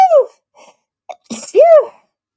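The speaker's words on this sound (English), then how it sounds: "I'm going to sneeze." A single sneeze goes off close and loud, opening with a sharp inhaled gasp and breaking into a burst, followed by brief breathy sounds. No other voices are heard.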